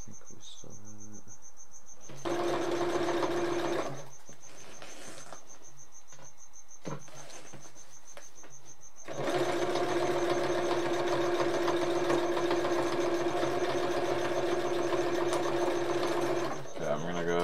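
A sewing machine stitches nylon and canvas for a custom surfboard bag, running in two steady loud humming bursts, a short one and then a long one, with a quiet pause between them.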